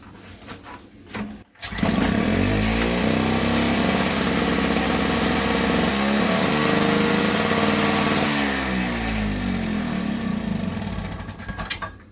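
A Victa Tilt-A-Cut S90 lawn mower under repair: a few quiet knocks, then the engine catches and runs loud and close, holding a steady buzzing drone that climbs and falls as it is revved.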